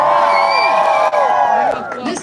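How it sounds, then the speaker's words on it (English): A crowd cheers and whoops at an outdoor ribbon cutting for Gabriel "Fluffy" Iglesias at the National Comedy Center in Jamestown, loud and sustained with shrill whistles and shouts that fade slightly at the end. "This is a great crowd."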